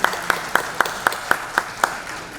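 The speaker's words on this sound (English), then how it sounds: "can we applaud that, please?" Nine sharp, evenly spaced claps ring out at a steady quick rhythm at a press conference for a global spy series, fairly close and distinct with no speech over them.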